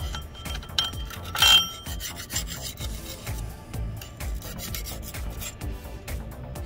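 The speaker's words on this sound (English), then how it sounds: "And scrape off the remaining gasket," Old gasket material and sealer are scraped from a metal mating surface during an RC 5500 transmission repair, giving close, gritty rasping strokes in an uneven rhythm with small metallic clicks.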